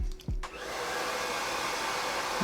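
A hair dryer switches on after a couple of clicks and blows with a steady, loud whooshing roar.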